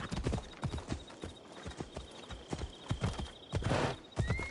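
Hooves clop in a quick, steady galloping rhythm as a horse runs in the video game Assassin's Creed Odyssey, loud and close amid game ambience, with a whinny-like cry near the end.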